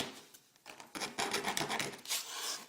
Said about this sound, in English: Helps to get the edge you're filing against up against the table.